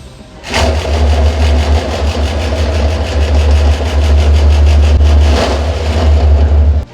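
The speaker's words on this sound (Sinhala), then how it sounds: "පිටි හලා ගන්න මැෂින් එකක්." A flour sifting machine, able to sift 100 to 150 kilos an hour, starts up with a thump and runs with a loud, steady motor drone and rhythmic rattling vibration, close by and alone.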